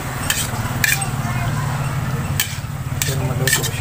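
A spatula scraping and clinking against a pan while vegetables are stirred with soy sauce, several sharp metallic scrapes over a low continuous sizzle and hum.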